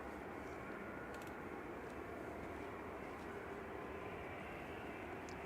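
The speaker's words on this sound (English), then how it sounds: "So we've got EasyJet taxiing out. That's heading off to Amsterdam, A319." An EasyJet Airbus A319 airliner taxiing out at Manchester Airport, a steady low engine rumble and broadband roar that holds at a moderate, distant level with no talk over it.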